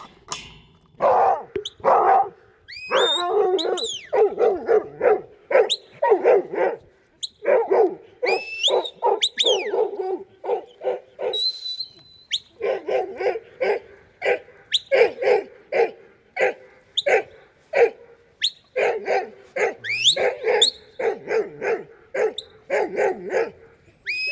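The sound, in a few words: working sheepdog barking while herding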